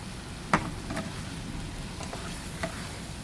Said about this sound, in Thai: แล้วก็ผัดให้เข้ากันนะคะ